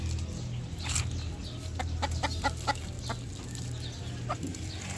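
A chicken clucks in a quick run of short, sharp notes, then a few scattered clucks over a low steady background hum.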